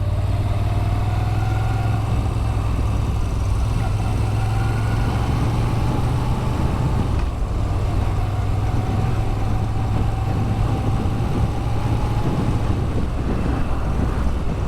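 A Moto Guzzi V7 Stone Special Edition motorcycle engine runs at a steady idle, a continuous low throbbing drone that stays level and close for the whole stretch, with no talking.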